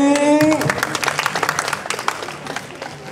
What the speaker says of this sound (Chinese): 现场的朋友掌声欢迎